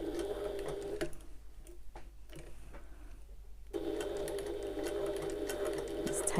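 Domestic sewing machine stitching around the curves of a small fabric bag, a steady close mechanical whir that pauses briefly for pivoting, then resumes its even hum.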